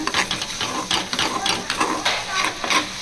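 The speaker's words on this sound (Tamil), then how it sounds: "அப்பப்போ இப்படி கிளறி விட்டுட்டே இருங்க ஸ்லோவில்." A carrot and egg poriyal is stirred slowly in a frying pan: a utensil scrapes the pan with repeated, rhythmic strokes over a steady close sizzle, and nobody speaks.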